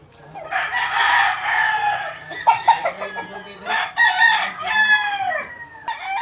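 Heritage chickens cluck and a rooster crows nearby in their ranging area in Compostela, Cebu, with overlapping bird calls in a busy farmyard.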